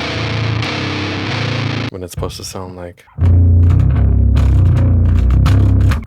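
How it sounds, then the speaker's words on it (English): Electric bass recorded through a guitar distortion effect, a loud, thick, fuzzy low-end tone that plays steadily, breaks off briefly, then returns even louder and denser, with a voice talking over the gap. "I recorded the bass with the guitar distortion."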